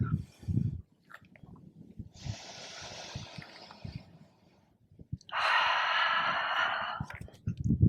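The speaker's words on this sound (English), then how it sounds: "But more importantly, a full breath." Deep, full breaths during a Pilates yoga class in Tuscany, Italy: a long airy inhale, a pause, then a louder, sustained exhale, with softer breathing and small body movements between them, close to the listener and without talk.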